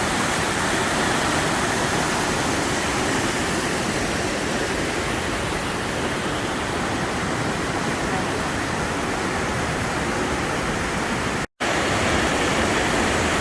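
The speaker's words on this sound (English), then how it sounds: "Look how high up these cascades go." Calypso Cascades waterfall in Rocky Mountain National Park, a loud unbroken roar of rushing white water heard up close from a bridge, steady for the whole stretch apart from one brief cut.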